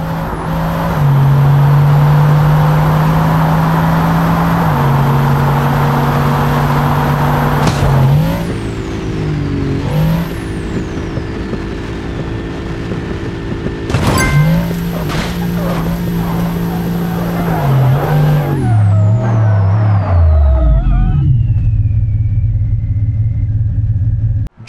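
A Bugatti sports car in BeamNG.drive revs steadily, its engine pitch climbing and dropping in several sweeps before a final wind-down, loud and close with no talk.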